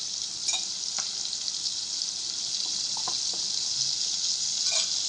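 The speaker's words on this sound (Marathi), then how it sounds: "पहिला कांदा फ्राय करायचा आहे बटर आहे बरं का त्याच्यामध्ये बटर आणि तेल" Onion fries in butter and oil, giving a steady close hiss that holds evenly throughout, with a few faint stirring ticks and no talking.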